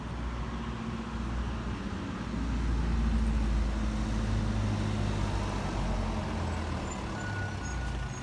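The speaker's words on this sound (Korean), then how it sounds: "아 자동차 버스 하나 오네." A bus pulls up near a quiet train station, its low engine rumble swelling in the middle and then settling to an idle. The sound is fairly close, with no talking.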